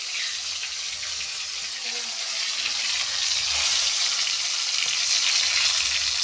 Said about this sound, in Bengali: আর পটল ভাজছি